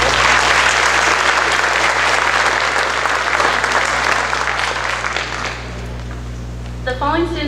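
An audience at a high school academic awards ceremony bursts into loud, sustained applause for honored students, the clapping thinning and fading toward the end as a voice begins to speak.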